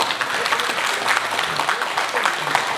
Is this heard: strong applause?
yes